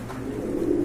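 Racer pigeons cooing softly in a low, steady hum that runs through the whole short moment, close by with no talk over them.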